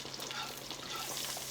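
Steady crackling sizzle of onions frying in butter in a hot pan, close up and moderately quiet, continuous without pauses or talk.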